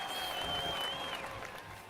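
Applause added as a sound effect, a steady wash of clapping heard continuously at moderate level and tapering slightly toward the end, with no voices over it.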